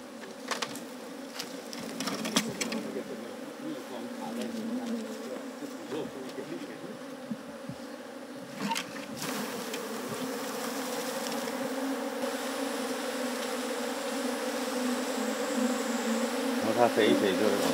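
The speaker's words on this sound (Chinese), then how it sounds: "一个斗笠里面都是蜜蜂。" A swarm of wild bees crowds inside a bamboo hat, making a dense, continuous buzz that grows slightly louder toward the end. Faint rustles and a few soft knocks come and go over it.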